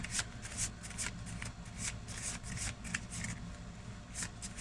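Tarot cards riffled and shuffled by hand in repeated quick bursts, close up, with a low background hum and no talking.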